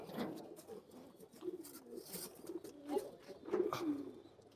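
Male pigeons coo softly in repeated low, rolling phrases, fairly close but quiet, with rustling and faint background noise between calls.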